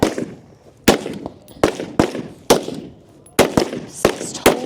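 Rifle gunshots on a tactical shooting competition stage at a regional match, fired from a barricade at targets about 40 yards out, roughly ten sharp cracks at irregular intervals, each trailing into a short echo.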